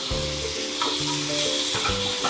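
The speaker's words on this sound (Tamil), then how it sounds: "தக்காளியும் நல்லா குக் ஆகட்டும், அது வரைக்கும் நல்லா வதக்கி விட்டுக்கோங்க." Onion and tomato sautéing in a pan, a steady close sizzle broken by rhythmic scraping stirs and low clunks of the spatula against the pan; no one speaks.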